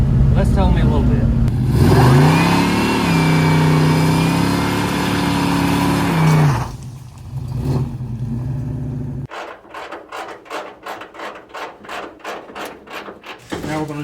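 A Henry J gasser car with an automatic transmission drives along, its engine droning and shifting in pitch under ongoing talk, then breaking into a quick run of rhythmic, pulsing engine bursts.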